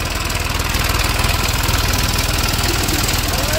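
A tractor engine runs slowly at low throttle, giving a steady, loud, close chugging drone with an even rhythmic pulse throughout and no voices.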